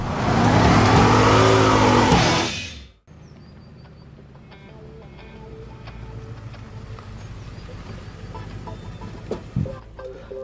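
A 2016 Ford Mustang V8 revving hard with line lock engaged, a loud roaring rev that cuts off abruptly after about three seconds, then settles into a lower rumbling idle for the rest.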